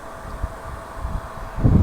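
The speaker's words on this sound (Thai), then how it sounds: "เบอร์สองครับ โอ้โห ลมแรงมาก นะครับ" A small 10-litre Meier ME 720 evaporative air cooler runs its blower fan on speed two, producing a loud, steady close-up whoosh of rushing air with low rumbling gusts that swell toward the end.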